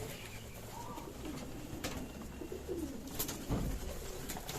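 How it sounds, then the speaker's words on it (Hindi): Soft, low cooing of pigeons repeats intermittently over a faint background hum, with occasional wing flutters and rustling nearby. "ये कबूतर डर भी रहे हैं"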